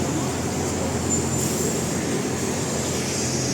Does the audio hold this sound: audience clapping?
no